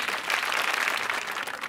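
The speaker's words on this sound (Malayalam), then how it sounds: "അതിനൊരു വലിയ കയ്യടി." A studio audience at a comedy show breaks into loud, sustained applause, dense clapping from many hands without pause.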